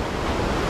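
Fast-running river at Fatherford on Dartmoor, England, in high flow: a steady, dense rush of water close to the microphone, continuous and broadband with no pauses and no talk.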